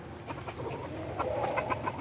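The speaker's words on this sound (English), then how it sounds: "Sorry, little rooster." A young rooster about a year old clucks softly at close range on a rainy day, a quick string of short, low clucks over a steady background hiss.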